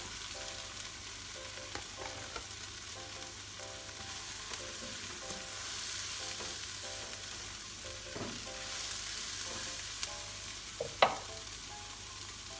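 Tempe sizzles as it is stir-fried in a pan with salt, powdered stock and palm sugar, giving a steady frying hiss with occasional stirring scrapes and clinks, moderately faint, with no talk.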